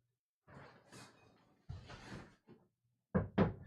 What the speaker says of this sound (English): That's a knock.